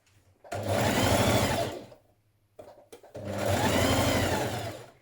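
A sewing machine stitches down the side seam of a dress in two loud sustained runs, each lasting over a second, separated by a brief pause with a few clicks.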